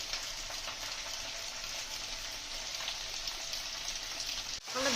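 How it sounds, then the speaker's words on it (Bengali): Spice paste for Lahori chana fries steadily in a pan, a continuous close, even sizzle and hiss that cuts off briefly just before the end. "আর এদিকে মশলাটা কষা হচ্ছে"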